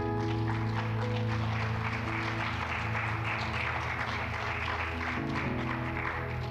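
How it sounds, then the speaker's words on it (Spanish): Church congregation applauding after a sermon, soft continuous clapping blended with held instrumental music throughout. "¿Por qué no le damos un aplauso, mis hermanos?"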